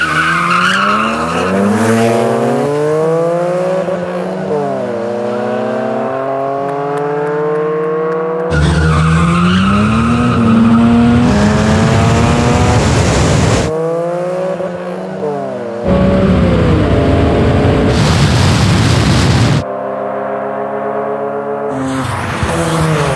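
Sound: Acura NSX and Mazda RX-7 FD drag race launch

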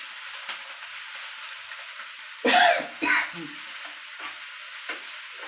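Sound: roasting ingredients in oil for chutney

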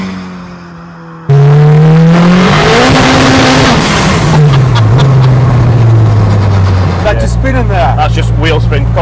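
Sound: 540bhp Vauxhall Chevette accelerating with wheel spin

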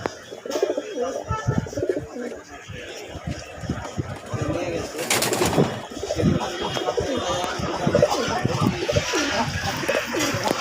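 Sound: pigeons cooing

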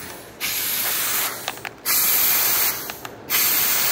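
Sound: compressed air blown through a Nissan EVAP vent control valve

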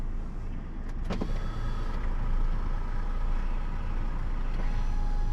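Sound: parked truck engine idling

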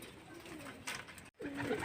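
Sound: pigeons cooing

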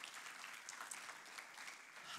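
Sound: audience applause

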